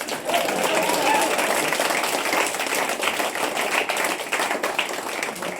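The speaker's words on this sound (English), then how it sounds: "A round of applause for Russell." Steady applause and clapping from a small group, moderately loud and continuous throughout, with a few voices mixed in underneath.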